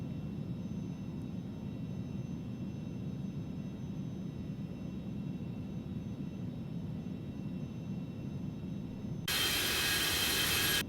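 Falcon 50EX business jet in the X-Plane 11 flight simulator, its engines droning as a steady low roar throughout, with a sudden brighter, louder burst of noise near the end; no talking.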